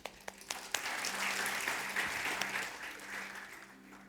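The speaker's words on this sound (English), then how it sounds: "Let us praise God with our claps." Church congregation clapping in praise during an English-language service: a sustained burst of many hands applauding together, starting with a few sharp claps and swelling into dense, even clapping that slowly tapers.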